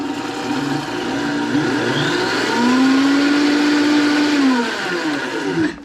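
Blender whirring through tahini sauce, a loud, steady motor drone whose pitch sags and rises as the thick sauce churns, running alone with no voices.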